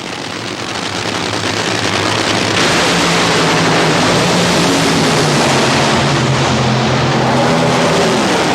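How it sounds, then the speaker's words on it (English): Funny car drag racing at Houston Raceway Park in 1988, a Thunderbird-bodied car in a semifinal run: a loud, continuous roaring engine blast that swells and holds with raspy, crackling texture throughout, no talk. "Then in the semifinals, it was back to the Thunderbird body as he raced Bruce Larson."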